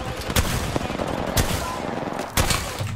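Video game airstrike with bursts of gunfire and explosions, three sharp loud blasts spaced about a second apart over a dense, rumbling battle backdrop.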